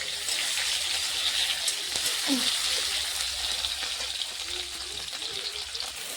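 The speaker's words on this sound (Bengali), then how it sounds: "এই যে লঙ্কা রসুন পেঁয়াজি দিয়েছি এগুলো আমি লাল লাল করে ভাজি নিই" Chilli, garlic and onion fry in oil in a pan, a steady close hiss and sizzle running throughout, with a voice speaking briefly over it.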